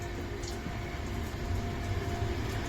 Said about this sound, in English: there is going a train over there.